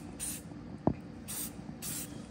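Short hissing bursts of spray paint coat a PSA AK-104 rifle, three brief close sprays spaced about a second apart with a small knock between the first two, fairly quiet overall.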